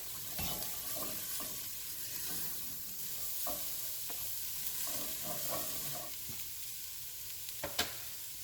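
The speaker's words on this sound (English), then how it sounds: "I'm going to add my jalapeno, just sort of give it a saute a little bit, just to get the skin blistered." A jalapeno sautéing in a hot pan to blister its skin, a faint steady sizzle with occasional soft stirring clicks and scrapes.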